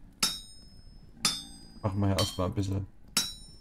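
Four sharp metallic hammer strikes on a copper plate at a smithing anvil in Vintage Story, evenly spaced with ringing clinks, while someone speaks in German between and over the blows.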